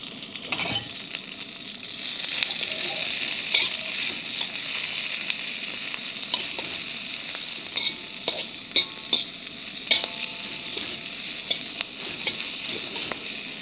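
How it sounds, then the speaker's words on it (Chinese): Scallions frying in a wok, a constant bright hiss of hot oil with scattered spatula clicks and scrapes throughout, close and steady with no voices. "就这样子把这个葱呢在锅底下煎好"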